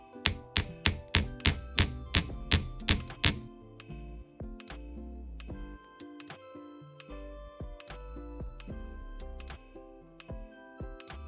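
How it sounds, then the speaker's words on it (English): A rapid series of about ten sharp metallic taps of a hammer on jewelry wire rings out, followed by quieter, irregular clinks and light knocks on metal. "Now I'm going to hammer. Come straight down."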